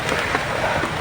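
Steady rain falling in a video game, a dense, even hiss of drops on surfaces, heard alone for about a second.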